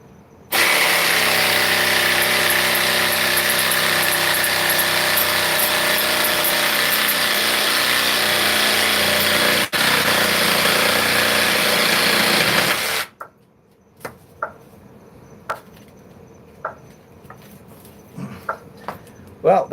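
An opal cutter grinding opal rough, a loud steady motorised whine holding for about thirteen seconds before cutting off abruptly, followed by quiet scattered clicks and taps.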